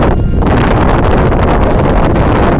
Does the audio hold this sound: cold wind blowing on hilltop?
yes